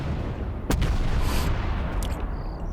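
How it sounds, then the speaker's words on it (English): Artillery firing white phosphorus rounds into an intersection in a video game, heavy booming shots over a constant rumbling battle din, with one sharp report early on and more dull blasts following. "Once you engage that artillery, you're going to be firing into this intersection with white phosphorus"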